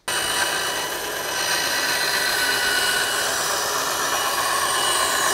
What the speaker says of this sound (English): you probably want me to cut some stuff on it